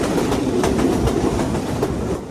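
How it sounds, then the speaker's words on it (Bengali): A Chitra Express passenger train hauled by a 13-series locomotive runs fast through dusty country, with a loud, steady rumble and rhythmic clickety-clack of wheels over rail joints, heard from on board. "প্রচন্ড ধুলা আর 13টি সিরিজের লোকোমোটিভের পাওয়ার জাস্ট অসাধারণ, অসাধারণ স্পিড।"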